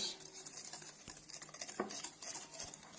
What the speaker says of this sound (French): rajouter le beurre fondu au sucre. Et vous pouvez après bien mélanger.